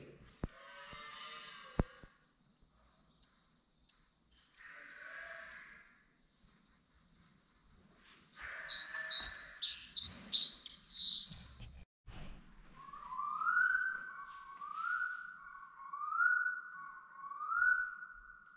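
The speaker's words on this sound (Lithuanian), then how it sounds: "Nu, paklausom paukščių." Birds sing outdoors in a small riverside town, with rapid high trills and chattering phrases, then a clear repeated whistled song, all moderately close against a quiet background.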